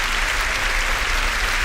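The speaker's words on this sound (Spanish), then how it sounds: "Vamos a aplaudir al Señor Jesús." A church congregation claps steadily together, a dense, even wash of applause filling the room without a break and no voices rising above it.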